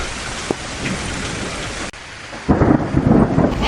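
Steady heavy rain patters over a deep rolling rumble of thunder, swelling louder near the end.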